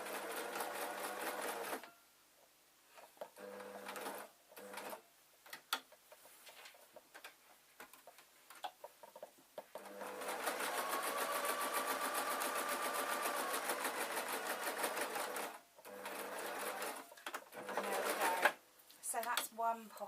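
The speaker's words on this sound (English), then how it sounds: "Now I'm literally just sewing along here." A sewing machine stitches a pocket onto a denim skirt in steady runs of close, fast mechanical whirring, with short pauses and a little talk between stretches.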